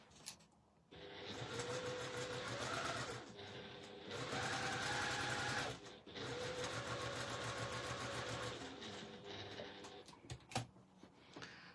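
A sewing machine stitches around a placket zip at a short stitch length, its rapid mechanical whir running in bursts with brief pauses between runs, close and steady.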